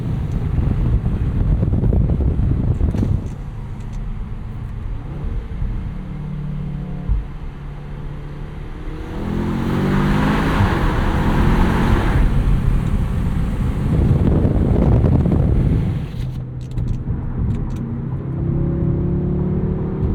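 A 2025 Audi S3 with a 328 hp turbocharged engine, heard from the cabin while driving: a steady low engine and road rumble with wind noise that swells in the middle and eases off as the car slows.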